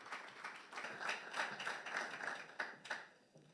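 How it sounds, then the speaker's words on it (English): An audience at an energy transition launch event applauds to welcome Chile's environment minister to the podium, a sustained patter of many hands with distinct sharp claps, faint and somewhat distant, with no talking over it. "we receive her with a great round of applause"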